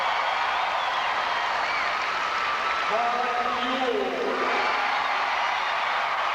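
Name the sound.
basketball crowd applauding at award ceremony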